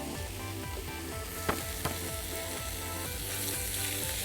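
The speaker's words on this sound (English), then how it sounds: "we're just going to crisp that up slightly, seal that off on the edges, and then flick that steak back over" A T-bone steak sears in a pan alongside vegetables, bacon and a little pureed garlic outdoors on a riverbank, giving a steady, close sizzle with a couple of brief sharp clicks of utensils midway.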